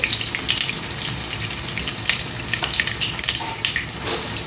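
Crushed garlic and curry leaves fry in hot oil for a tomato thokku, giving a steady close sizzle with scattered pops and light stirring sounds.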